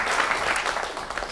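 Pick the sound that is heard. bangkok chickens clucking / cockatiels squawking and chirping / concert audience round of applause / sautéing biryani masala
concert audience round of applause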